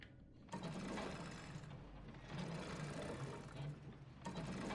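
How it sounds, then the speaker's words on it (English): Square crank being turned in a Resident Evil 2 Remake mechanism, a continuous grinding, ratcheting churn of gears lasting several seconds with slight surges in intensity. "this is where we got to use the square crank at"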